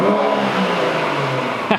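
A BMW M140i engine revs briefly, its intake giving a loud, close, rising whoosh and drone that lasts under two seconds, with no voices.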